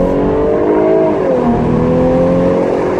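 A 2016 Jaguar F-Type 340 convertible's engine held at raised revs in sport mode, a loud steady close-up drone with harmonic tones that dip and rise slightly, heard alone without talk.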